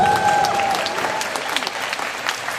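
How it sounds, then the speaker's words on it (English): Audience applause at a probation and parole summit, a dense continuous patter of clapping from a crowd, fairly loud and even, with a brief tonal ring near the start. "give a round of applause for that"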